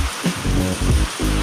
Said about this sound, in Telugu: సుమారుగా 2 గంటల సేపు ఏకధాటిగా కురిసిన వర్షం ఏం మాత్రం తగ్గలేదు.